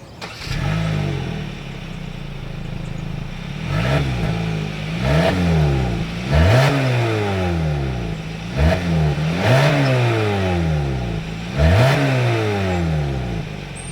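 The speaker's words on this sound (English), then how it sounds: "As always, here is that exhaust clip." A 2025 Kia Sportage engine revved repeatedly from idle at the exhaust, each loud rising surge falling back down, about eight revs in a steady rhythm with no talk.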